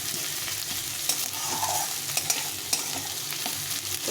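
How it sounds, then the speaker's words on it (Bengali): Onion frying gently in a small amount of oil in a home kitchen, a steady soft sizzle with a few light stirring clicks, close and alone with no talk. "আমি একটু নরম করে ভেজে নিচ্ছি"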